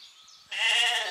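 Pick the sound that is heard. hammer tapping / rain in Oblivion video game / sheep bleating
sheep bleating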